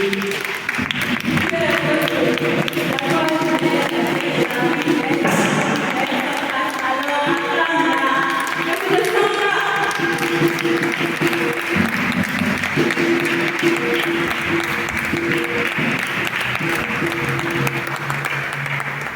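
A congregation applauds at an evening Catholic formation gathering, sustained loud clapping filling the room with a busy layered texture, while tonal voices or music run through it.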